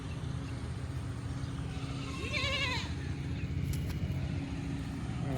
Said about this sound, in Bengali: এই তো অনেক ছাগল আছে আরো।